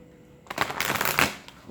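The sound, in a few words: shuffling cards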